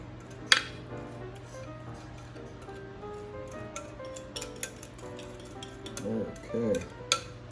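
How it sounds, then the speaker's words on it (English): A whisk scrapes and taps against a bowl while mixing melted chocolate for keto chocolate crunch, with light intermittent clinks and soft stirring close by. "let's take this whisk here, give it a little mix up there, and just continue to get all that wonderful chocolate out there."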